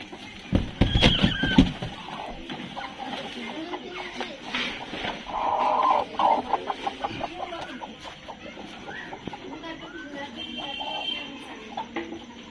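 A hen kept for brooding a clutch of six eggs clucks in short, repeated bursts at close range, with shuffling movement and people talking.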